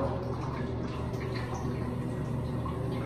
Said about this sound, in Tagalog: Yan yung kalakas yung shower.